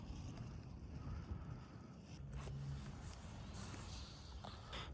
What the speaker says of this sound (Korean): 바람에 이렇게 불어